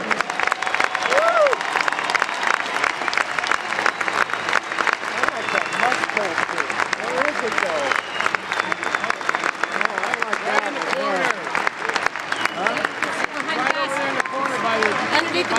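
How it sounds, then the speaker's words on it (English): A basketball arena audience stands and gives a sustained round of applause, with dense, continuous clapping and crowd noise that stays loud for the whole stretch. "please stand. Give one last round of applause for Coach Rick Majerus."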